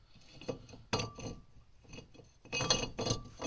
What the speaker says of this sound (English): just take your rotor, slide it over your studs